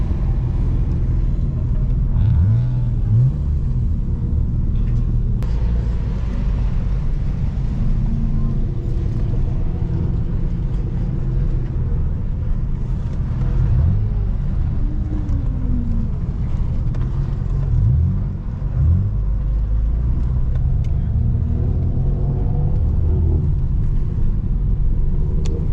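A 6-speed Nissan Altima drives along, giving a steady low engine and road rumble heard from inside the cabin, with occasional faint voices under the noise.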